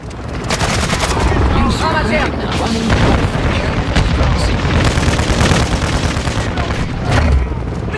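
A video-game firefight rages with a mortar strike: dense, loud bursts of gunfire and heavy booming explosions roll on continuously at close range, with no pause.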